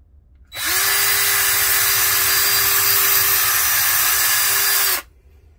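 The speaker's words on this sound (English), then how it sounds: "we'll just drill a hole straight across on this side where the broken part was" A power drill bores a hole through a cracked RV toilet flange, whirring at a steady high pitch for about four seconds before it stops abruptly. Room quiet lies before and after the drilling.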